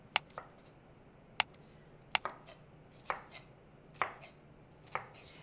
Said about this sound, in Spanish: tengo un pedazo de ají, vamos a cortarlo pequeñito